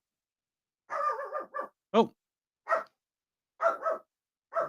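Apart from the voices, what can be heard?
dog barking at a passer-by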